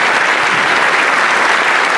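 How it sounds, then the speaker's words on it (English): A crowd claps steadily for an alderman at large during the 2017 Aurora city inauguration ceremony, a thick, even wash of applause without voices. "one more round of applause to Alderman at Large, Robert J. O'Connor"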